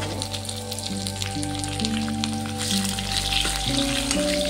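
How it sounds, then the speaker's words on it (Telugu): Mustard seeds, cumin, curry leaves and onions sizzling in hot oil for a tempering for mango dal, a steady close crackle and hiss with faint stirring, under a sustained tonal hum and with no talk. "కొంచెం ఫ్రై అయిన తర్వాత ఆనియన్స్ కూడా యాడ్ చేసుకోవాలి"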